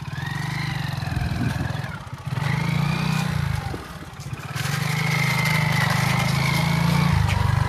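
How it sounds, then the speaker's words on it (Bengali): A second-hand Hero Super Splendor motorcycle ridden nearby in south Tripura, its engine droning loud and steady, rising and falling as it revs through gear changes with brief dips between. "বাইক চালাই দেখাইব"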